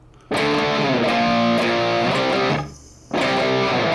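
Distorted electric guitar plays a pre-chorus riff in the style of 1985 hard rock. It enters loud and sustained with shifting chords, drops out briefly, then comes back in. No voices.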